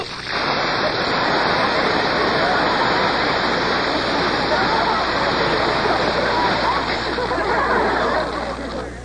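Water dumped onto a person: a loud, continuous rushing gush of falling water that starts suddenly and pours steadily for several seconds, close and filling the scene, then tails off.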